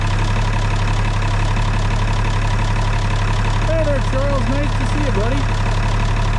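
A Farmall tractor idles steadily nearby while driving a grain auger on a Montana farm, a constant loud engine drone with a person briefly speaking over it.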